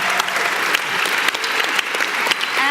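A round of applause from an audience at a David Lynch Foundation event, loud, dense clapping sustained throughout with a few sharper individual claps standing out near the front.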